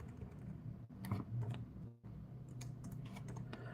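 Keys are pressed on a ThinkPad X13 Gen 1 laptop keyboard. A few soft, close clicks and taps come at uneven intervals with a brief pause between them, and no one speaks.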